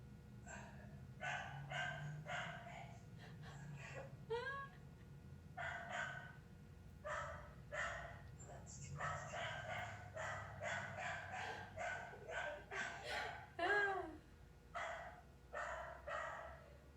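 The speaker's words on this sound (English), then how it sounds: "The dog is very upset." An upset dog barks repeatedly in a home during an online workout session, bursts of sharp barks in uneven rhythm, fairly close and clear with almost no talk.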